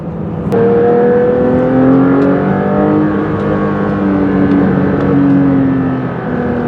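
A Porsche 911 S/T sports car engine revs hard and accelerates on winding roads in southern Italy, loud and close, its pitch climbing through several gear changes with no talk.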